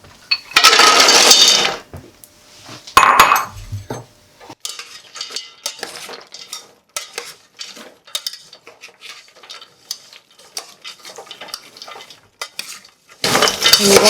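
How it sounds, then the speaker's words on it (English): Two spoons stir nuts into a caramel sauce for salted caramel nut brittle, making loud, busy bursts of scraping and clinking at the start, near three seconds and at the end, with lighter taps and scrapes between. "I'm going to use 2 spoons to stir the nuts and combine them in our sauce."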